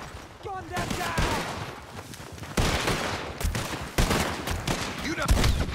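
Gunfire from the video game Red Dead Redemption 2 crackles in repeated heavy bursts and volleys throughout a combat scene, with shouted voices mixed in.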